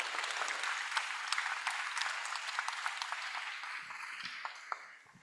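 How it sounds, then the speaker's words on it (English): Audience applause for a contest winner at an oratorical world championship, steady clapping from a seated crowd that holds for about four seconds and then thins out toward the end. "So let's give him a round of applause."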